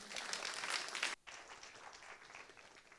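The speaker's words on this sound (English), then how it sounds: "Thank you for that round of applause" Lecture-hall applause rolls steadily at a modest, somewhat distant level, then drops off abruptly into lighter scattered clapping and room noise.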